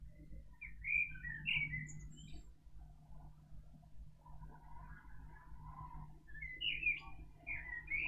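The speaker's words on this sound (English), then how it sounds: "It's a blackbird singing really close by." A blackbird sings close by in bursts of clear, fluting phrases separated by pauses, over a low steady hum, with no voices.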